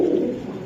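A red gola pigeon coos in a low, steady rumbling call lasting under a second, close and fairly loud with no talk over it.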